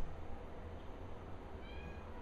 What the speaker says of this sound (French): elle arrête pas de miauler